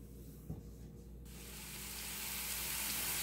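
Diced half onion and cut green, yellow and red peppers hit a hot stovetop pan: a faint clink, then a sudden loud sizzle that keeps building into a steady, bright hiss.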